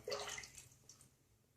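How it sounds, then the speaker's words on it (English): Water drips and splashes onto a wet shaving brush, a brief wet patter at the start fading within about a second, quiet and close. "I'm just dripping a few drops of water onto the brush."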